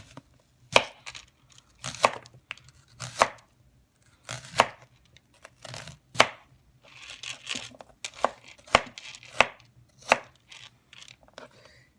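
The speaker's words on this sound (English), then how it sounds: "I'm going to just kind of put this into little slices just so that they'll brown a little bit nice" A knife cuts food into small slices on a board, a series of crisp, close chops spaced about a second apart, some quicker and doubled, with no talking.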